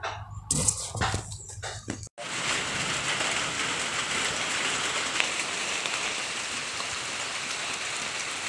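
Steady, dense rain hisses on a surface at a farm in the Philippines, close and constant, after a brief stretch of scattered knocks and rustles at the start.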